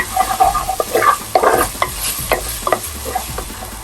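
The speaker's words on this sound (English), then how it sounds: "I'm just going to quickly stir it." Garlic frying in a pan for sarson da saag, stirred with a utensil: lively sizzle and repeated scraping, clattering strokes at an uneven pace, close and loud with no talking.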